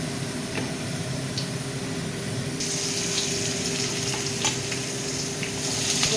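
Whole garam masala spices hit hot oil and sizzle loudly and continuously, a dense close frying hiss that brightens partway through with occasional stirring clicks.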